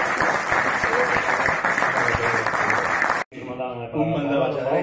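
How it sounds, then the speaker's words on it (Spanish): Audience applause at a tribute event in Rois, a dense steady clapping that fills the room for about three seconds before cutting off abruptly, followed by a voice speaking. "Llévate este aplauso otra vez desde ahí."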